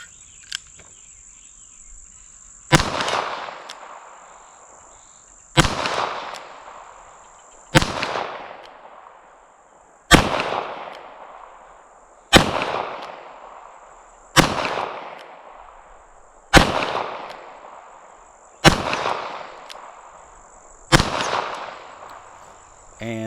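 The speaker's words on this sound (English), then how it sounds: "I shot it with the 22 Magnum cylinder" A Diamondback Sidekick birdshead revolver with a 22 Magnum cylinder fires nine sharp, evenly spaced shots about every two seconds. Each crack rings out briefly over a steady high insect chirp in the background.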